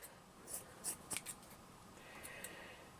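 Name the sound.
scissors cutting material for a gnome hat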